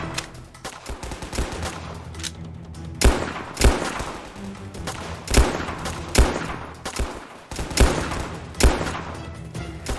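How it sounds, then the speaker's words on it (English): Gunfire in the Soviet Soldier video game: repeated bursts of shots rattle across ten seconds in irregular volleys, with loud single cracks standing out from a dense, continuous layer of firing and battle noise. "love the sound of that gun"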